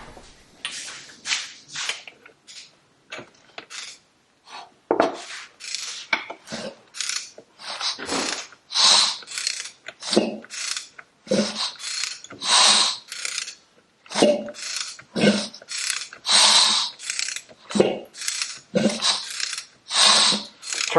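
A motorcycle engine turned over by hand, giving repeated mechanical ratcheting clicks and clattering bursts in an uneven rhythm, close and fairly loud, with no talk.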